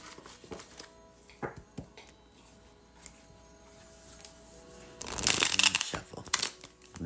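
Tarot cards are shuffled by hand, with quiet scattered flicks and taps at first, then a louder burst of riffling card shuffles toward the end.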